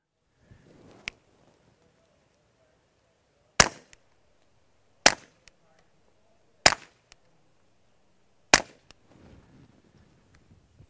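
Four quiet, sharp cracks from a bolt-action rifle fitted with a Dead Air Mask HD silencer, evenly spaced a second or so apart, each a brief snap with little tail, plus faint handling noise between.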